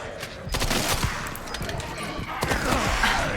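Dense, rapid gunfire from the video game Resident Evil Requiem, on Insanity difficulty, pounds almost without pause. The close, heavy bursts overlap one another and are mixed with other game noise.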